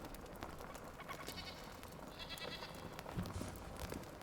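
Albaneve summit goats in the Enshrouded video game bleat faintly in the distance, with a few soft calls over a quiet ambient game background.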